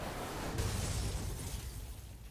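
A car smashing up in a racing video game at Sebring Speedway, a dense loud crunching burst of impact and shattering noise that swells quickly and then fades out over a couple of seconds, with no voices.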